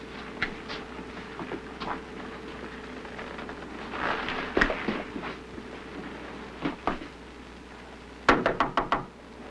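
Knocking on a house door, scattered single raps and then a quick burst of several sharp knocks near the end, heard indoors over a faint steady background hum.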